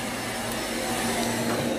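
A vacuum cleaner runs steadily at home while cleaning, a loud continuous whirring hum without pause and with no voices.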